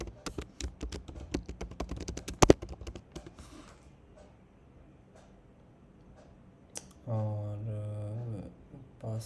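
Typing on a computer keyboard: quick irregular clatter of key presses for a couple of seconds, one sharp louder tap, sparse clicks after, then a brief voice near the end.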